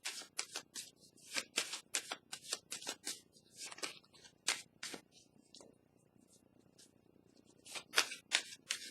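Tarot cards being shuffled and laid down, giving a rapid run of crisp, papery riffs and snaps in close succession with brief pauses, then a final sharp burst of card noise, all near and fairly quiet.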